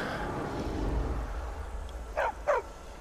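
Two short, sharp dog barks in the Skyrim VR game, a quick pair near the end after a stretch of low ambient rumble, with a faint echoing quality.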